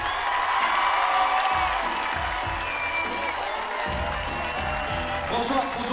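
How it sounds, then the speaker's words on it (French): Crowd applause and cheering at an outdoor international climbing competition in Serre Chevalier, 2008, a steady dense roar of clapping and shouts throughout, with a loud voice calling out over it. "Tonnerre d'applaudissements, s'il vous plaît, pour la jeu là-haut"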